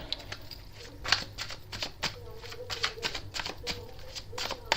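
Tarot cards shuffled and handled on a table in a series of soft, quick riffling and tapping bursts, close by and fairly quiet, with no speech.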